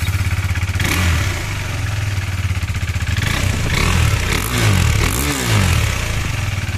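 KTM RC 390 motorcycle on its stock exhaust, revving repeatedly from idle with a loud, throaty engine note. Several rising and falling blips sit over a steady idle rumble, close by, with no talking.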